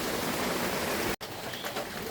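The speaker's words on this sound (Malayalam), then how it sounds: "പുറത്ത് നല്ല മഴയാണ് കേട്ടോ." Heavy rain falls outside as a dense, even hiss of drops, steady and close, with a brief dropout midway and no talking.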